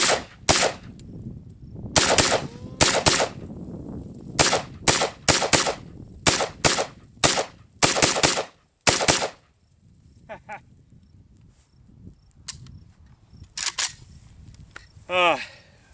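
A Century Arms N-PAP AK-47 rifle fires outdoors at fruit targets, sharp loud single shots in an irregular series with brief gaps, then a quieter stretch with people talking.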